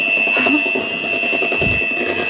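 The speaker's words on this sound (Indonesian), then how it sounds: "1 bungkus susu bubuk. Lalu ini kita mixer kembali." An electric hand mixer whirs steadily at high pitch while beating cake batter with milk powder, a constant close mechanical whine with faint rhythmic knocking of the beaters in the bowl.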